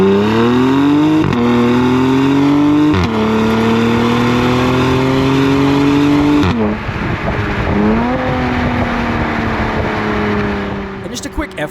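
A Genesis G70 fitted with a Borla exhaust revs hard and loud up close, with rising engine tone and gear-like steps, then a rougher, burbling drop as the revs fall.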